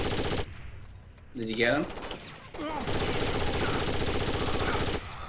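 Light machine gun fire in Rainbow Six: Vegas 2 hammers in fast, steady rattling bursts, loud and close, mostly in the second half, with a voice talking over the shooting.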